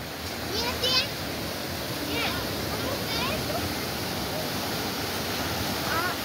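Small waterfall on a river, a steady broadband rush of falling water that runs continuously and fairly close, with faint voices in the background.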